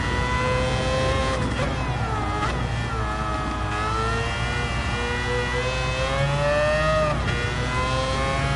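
Race car engine in the video game Gran Turismo 7, a Mercedes CLK on track, droning steadily with rising and falling pitch as it accelerates and shifts, continuous and close throughout.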